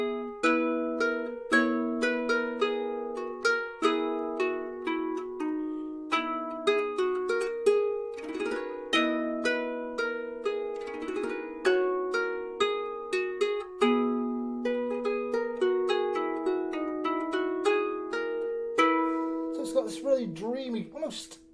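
An ancient lyre played in the Hyperlydian mode gives a steady run of plucked, ringing notes in a dreamy melodic line, close and clear throughout, with a shimmering glissando-like flourish near the end.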